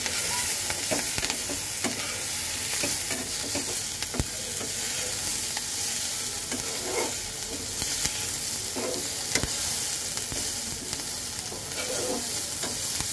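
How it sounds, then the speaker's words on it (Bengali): Chopped onions and green chillies frying in oil in a pan, a steady close sizzle with intermittent stirring scrapes, no talk. "পেঁয়াজটাকে খুব সুন্দর করে আমি ভেজে নেব।"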